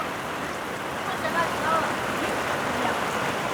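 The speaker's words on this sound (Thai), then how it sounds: "ฝนตกหนักแฮงทุกคนข้างนอก" Heavy rain falling outside a house: a steady dense hiss of downpour with faint spattering, continuous and moderately loud, with indistinct voices faintly under it.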